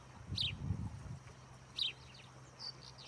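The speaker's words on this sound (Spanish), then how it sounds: "Ahí vienen todos los pajaritos, el chingolito también" Small birds, among them a rufous-collared sparrow, chirp in brief, high twittering bursts at a distance, spaced a second or so apart over a faint low rumble.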